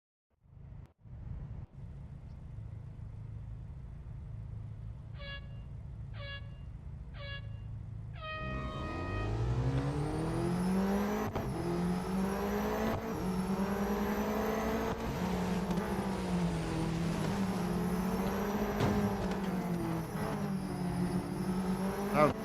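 A Porsche race car in the Real Racing 3 video game launches down the Porsche test track, with brief countdown beeps, then a loud sustained engine roar climbing through rapid gear changes with repeated shift dips, close and continuous.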